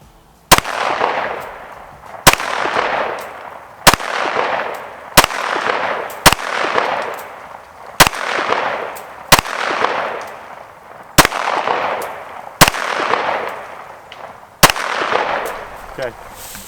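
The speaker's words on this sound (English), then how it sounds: "Let's try to shoot for bullseyes here." Rifle shots from a 6.5 CM rifle fired at a target ring out loudly, about ten sharp cracks at irregular intervals of one to two seconds, each followed by a short decaying echo, with no talking between them.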